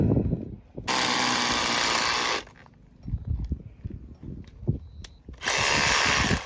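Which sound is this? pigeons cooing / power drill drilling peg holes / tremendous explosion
power drill drilling peg holes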